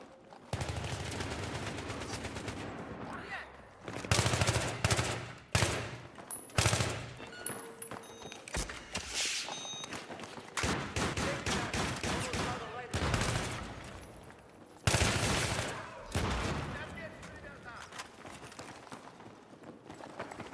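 Gunfire in Battlefield 3 on PS3, dense bursts of automatic shots and single cracks in uneven clusters, loud and close, with short pauses between volleys.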